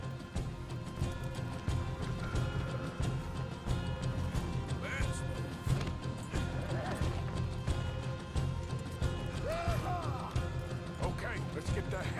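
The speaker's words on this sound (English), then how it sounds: "you get them horses free" Horses clip-clopping at a run in the Red Dead Redemption 2 video game, a steady hoof rhythm under a dense mix of game music and effects, with characters talking over it throughout.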